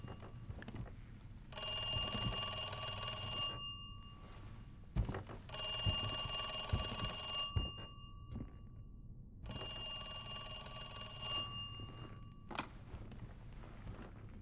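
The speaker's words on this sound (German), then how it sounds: "Huch, Telefon." An old-style telephone bell rings in three loud bursts of about two seconds each, with pauses between them, in the Resident Evil 2 Remake (2019) video game, over faint ambient background and a few soft thuds.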